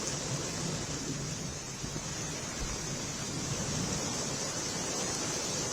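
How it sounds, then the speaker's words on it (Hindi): Heavy rain pours down at night in Delhi, making a dense, steady, loud hiss that never lets up, with a low rumble underneath and no voices. "दिल्ली के कई इलाकों में झमाझम बारिश हुई"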